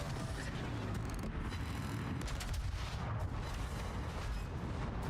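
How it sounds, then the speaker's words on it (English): Torpedo hits on a ship in the World of Warships video game, a dense, continuous rumble of booms and explosive noise filling the whole stretch, loud and unbroken. "Allied torpedoes are coming into me."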